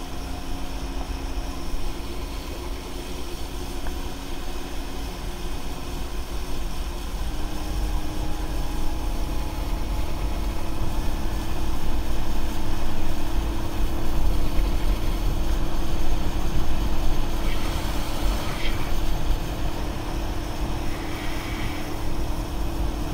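A Micro X 1645 T small aluminum boat with an outboard motor running up on plane at about 22 mph, a steady close engine drone with rushing water that swells slightly midway.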